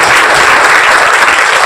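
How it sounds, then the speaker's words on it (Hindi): Loud, dense crowd applause at a social workers' council event distributing free stationery to students, continuous and even throughout the short stretch. "एक बार जोरदार तालियां बजा दीजिए।"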